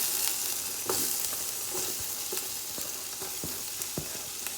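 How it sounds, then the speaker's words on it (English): Onions sizzle in a pan for chicken fried rice, a soft continuous crackle with scattered taps and scrapes from stirring throughout. "Now I'm gonna go in with my onions."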